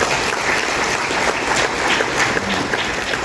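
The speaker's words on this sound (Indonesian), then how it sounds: "Tepuk tangan dulu." An audience applauds at a graduation ceremony for Quran memorizers, a dense sustained patter of many hands clapping throughout, loud and close.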